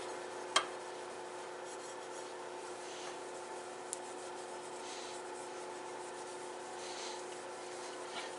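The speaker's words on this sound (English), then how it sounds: "We're going to burnish this." Blued metal being burnished by hand gives a steady, soft rubbing hiss that runs throughout, with one sharp tick near the start and a faint click later.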